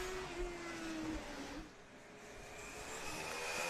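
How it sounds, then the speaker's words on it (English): Formula SAE combustion race car pulling away from the start during an endurance event, a distant engine note rising and fading under broad outdoor background noise, with no talking. "As we see car 40 taking off, or hear them in the background"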